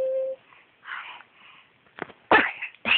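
A person sneezes close by, followed by a second, louder sneeze, each a short sharp burst. A soft breathy sound comes before them.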